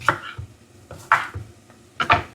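Knife chopping an ingredient into large chunks on a board for a ground sardine fish curry, three sharp, close cuts spaced about a second apart, with light thuds between them.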